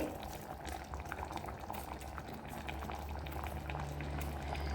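A pot of dum biryani bubbles and simmers steadily on the stove, a quiet, continuous boiling texture with small pops throughout.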